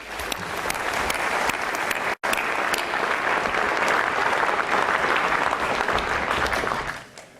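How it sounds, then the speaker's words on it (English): A UKIP conference crowd gives sustained applause as Stuart Agnew walks on stage. The clapping is loud and even, with one abrupt momentary dropout, then it carries on and fades at the end. "we can give him a round of applause now to welcome him on stage"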